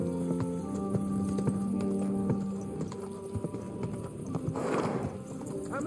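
Horse hooves clip-clop at a steady walking rhythm in the medieval game Kingdom Come: Deliverance II, close and fairly loud over a soft ambient background, with a brief snort or whinny-like burst near the end.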